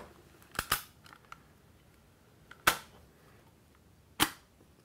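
An antique tube-loading airgun, about a century old, is worked by hand, giving a few sharp, close metallic clicks and snaps: a quick pair near the start, then two single loud clacks spaced apart, with quiet gaps between.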